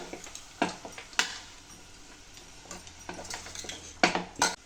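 A spoon stirs cabbage and beetroot poriyal in a pan, giving scattered scraping clinks at an irregular rhythm over a faint sizzle, with a few sharper knocks against the metal.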